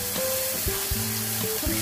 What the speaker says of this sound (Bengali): মশলাগুলোকে একটু ভালো করে মাছের সঙ্গে ভেজে নিব